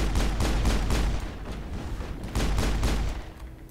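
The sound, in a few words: gunfire in the video game Mass Effect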